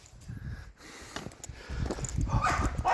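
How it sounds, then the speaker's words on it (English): A farm dog barks repeatedly in short bursts, fairly close, with snorting and outdoor rustle around it. "I wish Bear would stop barking."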